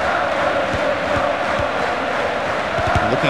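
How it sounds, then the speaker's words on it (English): A crowd at a football match cheers in a loud, continuous roar, with sharp thumps and shouts scattered through it. "Crowd really cheering them on."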